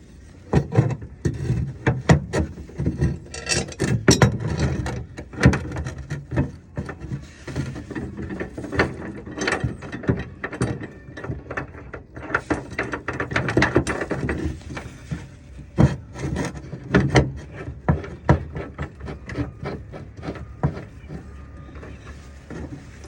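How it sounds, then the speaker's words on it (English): Modular bed mounting hardware is cranked down with a hand tool, giving a steady run of close ratcheting clicks and knocks against wood and metal over about twenty seconds, with no talking. "Crank these down once I get everything where I want it."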